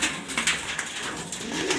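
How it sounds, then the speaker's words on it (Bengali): A male pigeon coos in a pigeon loft, a steady, close, resonant cooing that repeats throughout without speech. "এটা একটা নর কবুতর।"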